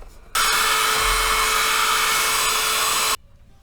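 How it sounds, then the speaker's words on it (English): A hair dryer aimed at a plastic action figure switches on and blows with a loud, steady whooshing hum for about three seconds, then cuts off abruptly. "I hit him with the hairdryer"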